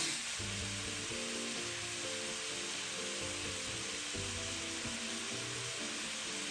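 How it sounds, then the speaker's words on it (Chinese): Pork ribs stir-fried in a wok with dark and light soy sauce for braised ribs with potatoes, giving a steady close sizzle with irregular scraping stir strokes throughout, no voices. "继续炒匀，让排骨充分吸收酱香。"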